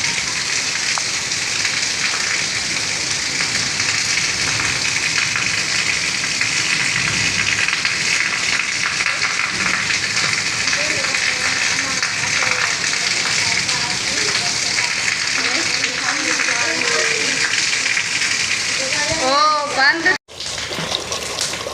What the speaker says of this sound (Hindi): तूफ़ानी बारिश है, बिल्कुल भी हम बाहर जा ही नहीं पा रहे, क्योंकि इतनी बारिश है